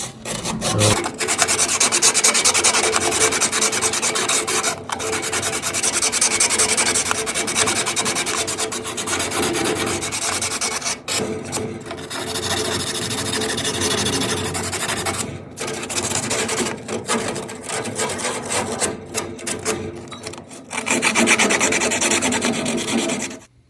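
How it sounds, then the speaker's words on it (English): A fireplace thermocouple electrode is scrubbed by hand with 220 grit sandpaper, giving loud, close, continuous rasping strokes with short pauses between bursts, alone without talk. "I've got 220 grit sandpaper, and I just want to clean the electrode here on this thermocouple"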